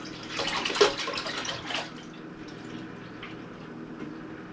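Milk and cream being poured from a quart jug into a container for homemade ice cream, a close gurgling liquid splash that swells for a couple of seconds, then tapers to faint trickling and quiet.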